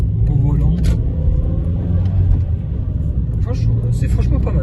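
Toyota Yaris mk2 1.3 VVT-i driving on a road, a steady low cabin rumble of engine and tyre noise heard from inside, with someone speaking over it.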